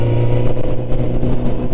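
Honda CB 1000 R 2022 motorcycle fitted with an IX Race silencer, a loud, steady engine drone close by while riding, with a slight rise in revs and wind rushing.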